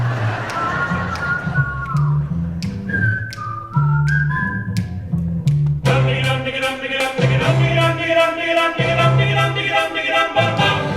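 A person whistles a wavering melody over rhythmic tapping, then loud music with a steady beat comes in.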